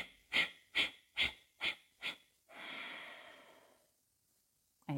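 Five short, sharp nasal bursts in a quick even rhythm, then one long, steady exhale that fades to silence, close and clear during a guided breathing exercise.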